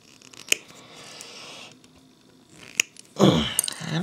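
Hobby clippers cut a plastic miniature base away from its sprue with two sharp snaps a couple of seconds apart, followed by a louder burst of rustling handling noise.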